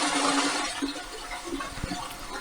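Water rushes steadily through a split AC filter during cleaning, a broad hissing spray with small splashes and knocks, continuous and close, with no voices.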